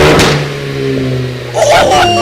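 A car with a new exhaust revs loudly up close, a rising engine roar in short bursts, with excited voices talking over it.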